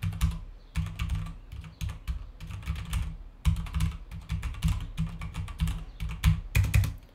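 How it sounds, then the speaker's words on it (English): Rapid clicky keystrokes on Razer BlackWidow and SteelSeries 6Gv2 mechanical keyboards, bursts of typing with short pauses, close and crisp, no voices. "So let's take a listen how both keyboards sound."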